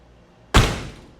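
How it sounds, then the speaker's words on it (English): Driver's side door of a 1956 Chevrolet swinging shut with a single solid, close thunk that rings out briefly, following a quiet lead-in with no voices. "Obviously, driver's side door opens and closes well."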